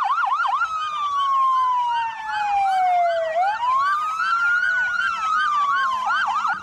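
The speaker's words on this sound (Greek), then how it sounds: "Στο σημείο κατέφτασαν πυροσβεστικά οχήματα, ασθενοφόρα του ΕΚΑΒ, αλλά και διασώστες της εθελοντικής διασωστικής ομάδας Πτολεμαΐδας" Wailing and yelping sirens of fire engines and ambulances arriving at a simulated building collapse during a fire service earthquake exercise, loud and close, sweeping up and down in pitch and overlapping.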